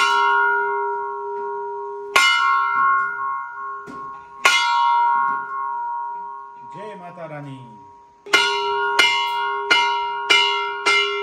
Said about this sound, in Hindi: और अभी हम घंटी बजाएंगे